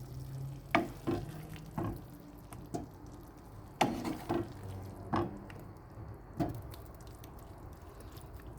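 Pasta being stirred together with its ingredients in a pan gives soft sizzling and a series of sharp utensil knocks and scrapes against the pan at an irregular pace, with no talking.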